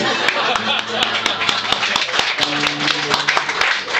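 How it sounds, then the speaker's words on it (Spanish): Applause from a crowd, a dense wash of clapping hands with sharper individual claps standing out, steady and fairly loud throughout. "Eso ameritaba un aplauso."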